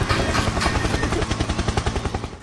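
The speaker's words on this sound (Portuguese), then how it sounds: "Helicóptero, helicóptero." Rapid, rhythmic rotor thumping from a helicopter pulses loudly and steadily, filling the clip with a chopping beat close by.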